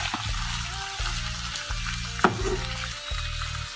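Boiled basmati rice and vegetables stirred together in a pan, rhythmic scraping strokes repeating about once a second over a steady frying sizzle, close and fairly loud, with one sharp clink midway.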